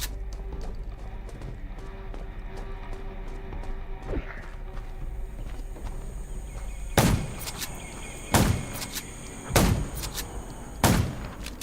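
Gunshots in the zombie survival video game Undawn: four loud, sharp cracks spaced about a second and a half apart ring out over a steady ambient insect-like drone, following quieter scattered clicks and thuds.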